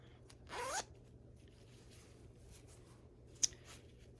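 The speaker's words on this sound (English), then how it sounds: "we're going to flip them right sides out, zip this back up" A zipper on a fabric bonding bag gives a short, close zipping pass, then a single quick sharp zip tick a few seconds later, in an otherwise quiet room.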